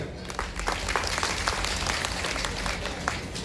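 Enthusiastic applause from an audience at an ashram devotional gathering for Sukhdev Bapu, a dense, steady burst of many hands clapping that carries on throughout.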